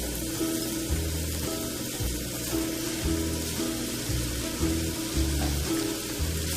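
Shiitake mushrooms fry in toasted sesame seed oil in a pan, giving a steady, close sizzling hiss with low tones beneath it and no voices.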